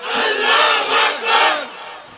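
A crowd at a Bangladeshi Islamic religious gathering shouts a loud, sustained takbir response in several swelling waves, a mass of voices rising and falling together with no single speaker.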